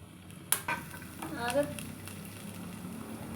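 Garlic, ginger and curry leaves hit a few spoons of hot oil in a wok, a sharp clatter followed by a quiet, steady sizzle as they fry, with a voice speaking briefly over it.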